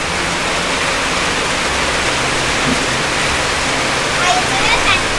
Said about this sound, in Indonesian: karena ini hujan deras